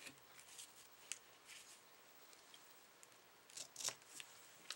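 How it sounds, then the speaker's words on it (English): Scissors snipping card paper for a handmade birthday card, a few quiet, sharp cuts spaced out in a hushed room, with a brief cluster near the end. "And then I'm going to cut this down just a little bit more."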